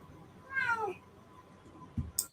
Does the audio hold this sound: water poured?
no